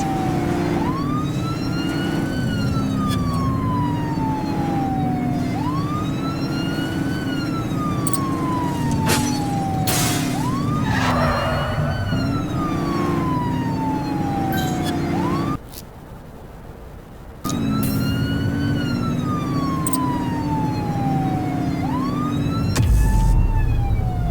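Police car sirens wail in the video game GTA V during a pursuit, looping loud and continuous with rising and falling sweeps over engine rumble, briefly cutting out near the middle before resuming.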